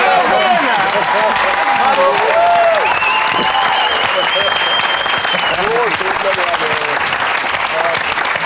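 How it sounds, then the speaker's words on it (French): A large audience breaks into sustained applause with some cheering and whistles, loud and continuous throughout. "Là, ça mérite les applaudissements."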